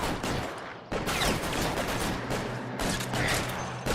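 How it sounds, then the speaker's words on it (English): Weapons firing in the video game L.A. Noire: dense, loud bursts of gunfire in repeated volleys with brief gaps between them, and no talking. "just fire your weapons at the military police"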